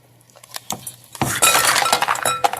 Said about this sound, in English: dump the ice cubes in here